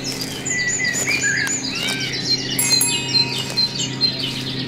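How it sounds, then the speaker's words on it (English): Several exotic jungle birds chirp and trill in quick, overlapping calls over a low background hum, fairly close and lively throughout. "the sounds of exotic birds filling the air"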